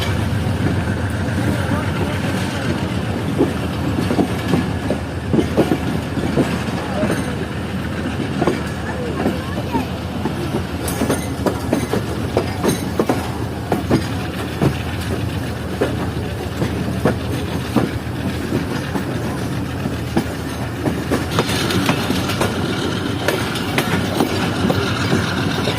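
The Khyber Mail passenger train runs between Karachi and Rahim Yar Khan, a continuous loud rumble with rhythmic rattling of the carriages, while people talk over it.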